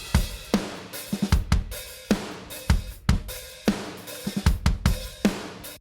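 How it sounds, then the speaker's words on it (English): Kick and snare drums blending live and sampled layers, playing a steady groove of punchy, loud hits alone with no voices, the drum bus processed through saturation. "So by themselves, the drums sound like this."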